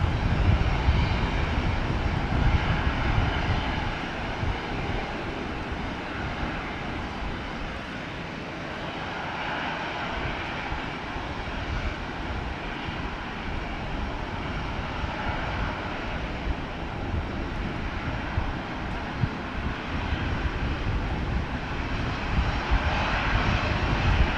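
Aircraft engines drone continuously at Brisbane airport, a broad, steady rumble heard from a distance that swells slightly at the start and holds level throughout, with no talking.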